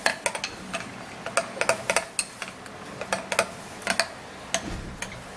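A vitamin C skincare mixture being stirred in a bowl, a spoon clicking and tapping against the side in a quick, irregular series of light, close, bright ticks with no voices.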